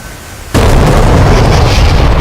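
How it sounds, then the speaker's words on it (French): A GBU-12 bomb striking its target in a Mirage 2000C flight game, a sudden loud explosion that erupts after a quiet moment and keeps roaring as a heavy, sustained rumble to the end. "Il a explosé la cible."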